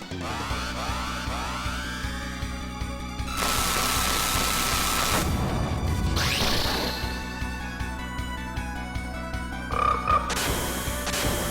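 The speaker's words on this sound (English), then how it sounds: "Hi, Mr. Frog." Frog croaking in the video game SaGa Frontier, a steady run of rhythmic croaks over layered game music and effects, with no talking.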